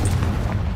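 Confringo blasting spell exploding in Hogwarts Legacy, a loud, deep, rumbling boom that fills the moment without a sharp attack and carries on steadily with no talk.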